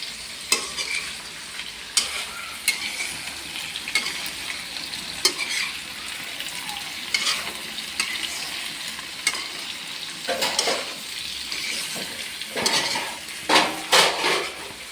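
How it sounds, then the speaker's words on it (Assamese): Meat frying in a pan, with a steady sizzle broken by repeated scraping and clanking of a spoon stirring against the metal, close and moderately loud, growing busier toward the end. "এয়া চাওক, মাংস লাৰি দি আছে।"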